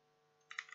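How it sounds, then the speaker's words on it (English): A computer keyboard gives a quick burst of a few close, soft key clicks at the end of a short, quiet moment over faint steady background hum. "open up command prompt and type"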